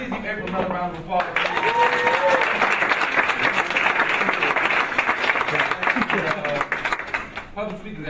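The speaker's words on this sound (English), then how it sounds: "Now, please give April another round of applause." At a launch event, an audience gives another full round of applause, with loud continuous clapping and some voices and whoops, fading slightly toward the end.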